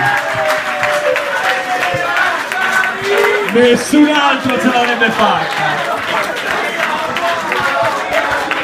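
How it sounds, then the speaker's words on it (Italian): Dinner crowd at a mustache-themed gala applauds and cheers loudly in a standing ovation, with shouting voices and talk over the steady clapping. "Minuti e minuti di applausi!"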